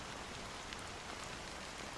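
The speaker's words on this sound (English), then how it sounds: "how long has this rain been going on for?" Steady rain falling in the video game Honkai: Star Rail, a faint, continuous even hiss of drops with no voices.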